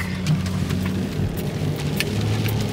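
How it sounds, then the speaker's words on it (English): A rainstorm pours steadily outdoors, with a dense hiss of rain and a low rumbling underneath, continuous and fairly close with no voices. "Y'all, it's storming."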